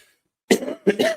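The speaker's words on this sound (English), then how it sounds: "pardon my coughing and spluttering over you all this morning" Two quick coughs, close and fairly loud, the second breaking into a short double burst, after a moment of silence.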